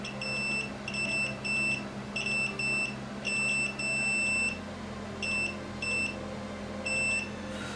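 A multimeter gives repeated continuity beeps while its probes test a Game Boy Advance SP ribbon cable. The short, high electronic tones come in irregular bursts, clear and close, over a faint hum.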